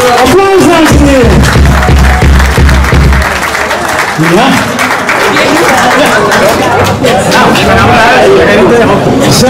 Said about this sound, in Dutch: Applaus, dankjewel.